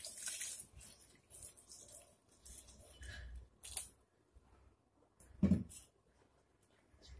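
Milk pours into a mixer grinder jar of bananas for a banana milkshake, a faint, brief liquid splash among light kitchen handling sounds.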